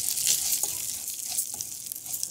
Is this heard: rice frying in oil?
yes